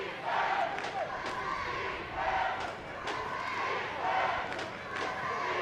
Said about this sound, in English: Canadian crowd wanting defense here.